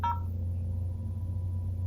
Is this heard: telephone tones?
yes